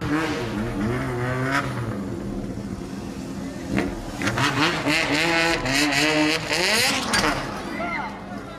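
A motorbike engine revs at a busy city intersection, rising and falling in pitch with loud bursts of acceleration and traffic noise, under a voice speaking throughout.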